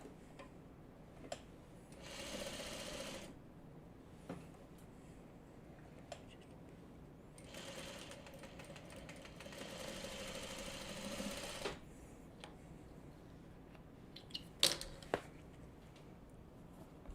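A sewing machine stitches small quilt block pieces in two sustained runs with a pause between, followed by a few light clicks and taps of handling. The sound is close and moderately quiet, and no one speaks.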